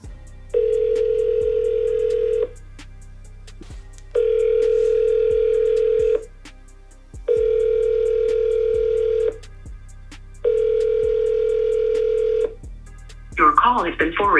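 A telephone call goes out and repeated ringback tones sound in five evenly spaced bursts, each about two seconds long with pauses between them, before the line connects.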